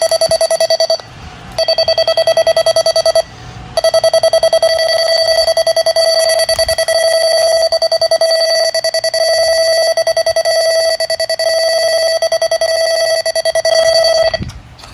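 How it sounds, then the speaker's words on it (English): Two weather radio alert modules give a loud telephone-like electronic tone, held steadily with two short breaks early on, then running unbroken before stopping just before the end. "test these 2 alert modules if you're wondering with the telephone sounds"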